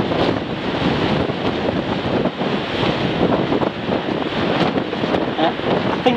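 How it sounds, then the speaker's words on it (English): Steady wind buffets the microphone at Portsoy seaside pool, a continuous loud roaring rush with surf-like wash and no pauses throughout. "the wind's still blowing"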